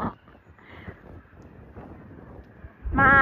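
Strong gusts buffet the microphone on a sunny outdoor family day, a steady low rumble with a louder blast at the very end.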